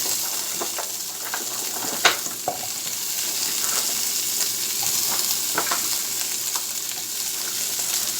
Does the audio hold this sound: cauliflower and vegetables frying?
yes